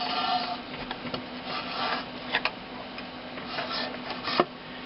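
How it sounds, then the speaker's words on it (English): A circuit board slides along the notches into a hard drive enclosure casing, giving soft scraping and rubbing with a few light clicks and taps, close up and quiet, no talking. "Just slide the circuit board into those notches and it'll slide back into the enclosure casing."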